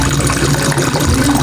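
Water pouring steadily into a pot to cook Shin Ramyun noodles, a loud continuous splashing rush that stays even throughout, with no voices.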